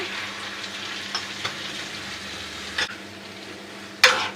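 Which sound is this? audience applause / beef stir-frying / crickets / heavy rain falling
beef stir-frying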